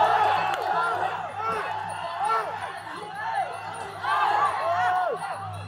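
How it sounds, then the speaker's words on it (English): A crowd at a Kun Khmer fight night in Phnom Penh, many voices shouting and cheering at once in a dense, surging roar with louder swells near the end. "So the crowds are going absolutely crazy"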